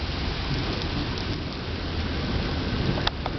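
Heavy rain falling outdoors beside a hotel during a thunderstorm, a steady broadband downpour with a low rumbling undertone and one brief sharp crack near the end.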